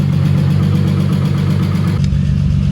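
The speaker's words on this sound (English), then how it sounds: "It's a strong running motor." An Acura Legend coupe engine idles with a steady, loud, low rumble that holds without a break, with a brief shift in tone near the end and no talking.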